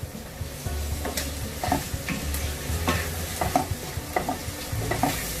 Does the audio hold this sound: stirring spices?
yes